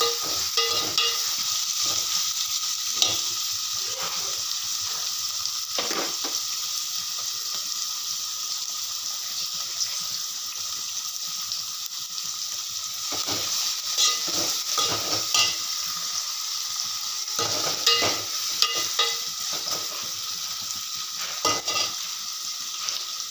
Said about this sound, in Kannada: ಸ್ವಲ್ಪ ಕೆಂಪಾಗೋವರೆಗೆ ಫ್ರೈ ಮಾಡಬೇಕು